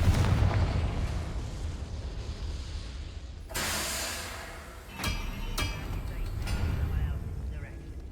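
Blasting-spell explosions in a video game: a sustained roaring blast with a hiss, then two sharp bursts that give way to rumbling debris, loud and close.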